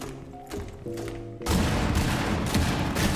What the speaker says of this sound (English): And that is a bunch of grenades that just went everywhere.